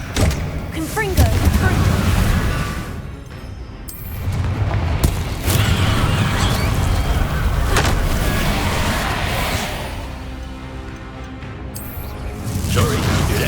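Repeated Confringo blasting-curse explosions from Hogwarts Legacy, loud booming bursts with whooshes spread across the scene, mixed with game sound effects and voices.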